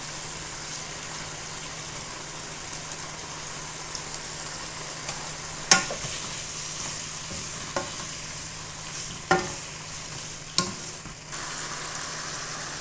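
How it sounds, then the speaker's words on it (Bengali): Pumpkin greens, potato and eggplant frying in oil with tempering spices, a soft continuous sizzle with occasional sharp spatula clacks and scrapes against the pan, steady and moderately quiet throughout. "ভালো করে তেলের সাথে একটু ভেজে নিব"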